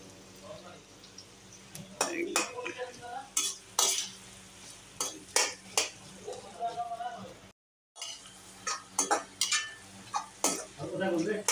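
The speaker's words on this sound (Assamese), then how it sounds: "এনেকৈ লৰাই থাকিব পিঁয়াজখিনি।" Onions stirred in a frying pan while cooking duck with ash gourd, with repeated scraping strokes over a low steady sizzle and spoon-on-pan clatter, a brief gap midway, as someone talks over it.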